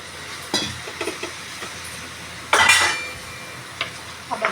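A spoon scrapes and clinks in a pan while mixing a dry dosa masala of turmeric, cumin powder, a little garam masala and fresh green coriander, with sparse knocks and one louder scraping stir in the middle, otherwise quiet.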